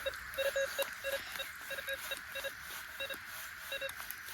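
A Minelab Gold Monster metal detector swept over a gold target on a hillside gives faint, repeated short electronic blips in an irregular stuttering rhythm, heard alone over low background hiss.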